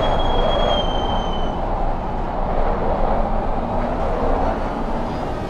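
A thin tire squeal rises briefly at the start over a constant engine roar in the racing game Assetto Corsa Competizione, with faint squeals returning later.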